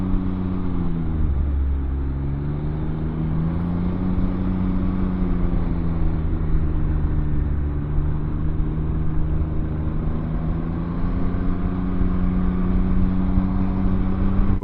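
Can-Am Ryker 900 three-wheeled motorcycle ridden through hilly roads, a continuous close engine drone with a brief pitch dip early on and then a steady hum, heavy wind rumble underneath, no talk.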